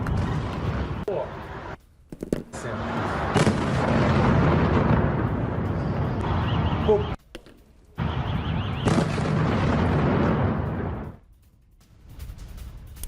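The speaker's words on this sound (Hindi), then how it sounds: "20 से ज्यादा मिसाइलों से कीव पर हमला हुआ।" Russian missile strikes on Kyiv, with loud explosive blasts and rumbling bursts repeated over several seconds, broken by short silent gaps, and a news voice heard over parts of it.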